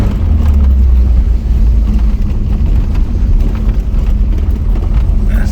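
A car accelerates hard while a slipping clutch is being tested, its engine roaring loudly and continuously with heavy low rumble and no talking.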